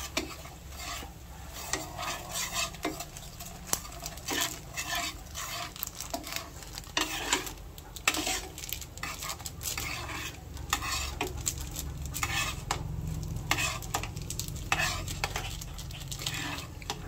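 A butter garlic crab dish is stirred in a pan, with frequent metal utensil scrapes and clinks against the pan over a low, steady sizzle, close and moderately loud.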